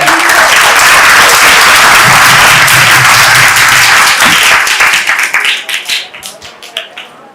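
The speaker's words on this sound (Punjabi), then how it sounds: "ਉਹਨਾਂ ਦੇ ਸਵਾਗਤ ਲਈ ਤਾੜੀਆਂ ਲਗਾਓ" Loud, dense applause from a school audience at a government high school event in Patiala, welcoming a guest, sustained for several seconds and then thinning into scattered claps.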